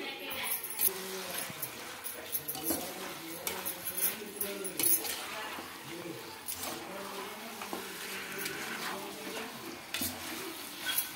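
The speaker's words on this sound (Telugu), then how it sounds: "ఇలా మొత్తం హై ఫ్లేమ్లోనే కలుపుకోవాలి ఒక 2 నిమిషాల పాటు" Chicken stirred in a handi pot over a high flame, with irregular scraping and clinking of a spoon against the metal under a soft sizzle while someone talks throughout.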